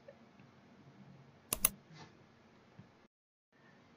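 A computer mouse is clicked to select a process in a Windows task list. A quick double click stands out sharply against a quiet room hum, followed by a faint softer tick.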